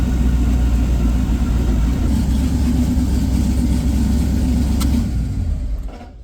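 A racecar with a heavy-duty manual transmission, running on gate pressure at around 700 horsepower, roars through gear shifts, a loud sustained low engine rumble that eases off near the end, with no talking.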